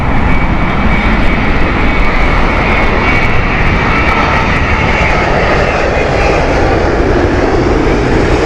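A Boeing 787 airliner at Heathrow Airport, its engines a loud, steady, close roar that fills the whole stretch without letup, with no talking.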